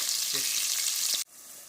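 Loud steady sizzling and crackling of browned potatoes frying in a pan, spitting grease, close up, before it suddenly drops away to a quieter hiss.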